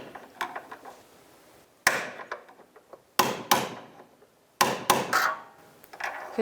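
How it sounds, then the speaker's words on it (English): A hammer drives a flathead punch to straighten the tie rod lock tab on a 2003-2009 Subaru Outback, with several sharp metallic strikes arriving in small clusters, close and crisp, separated by brief pauses and some faint clinking. "So I take a nice flathead punch and I'm going to straighten this out."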